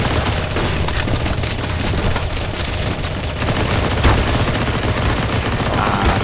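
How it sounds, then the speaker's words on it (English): Players in CS:GO zombie escape on the ze_endemic_v1_2 map shoot zombies with relentless automatic gunfire, many weapons overlapping in a dense, loud barrage that never lets up. "Shoot the zombies, don't go yet."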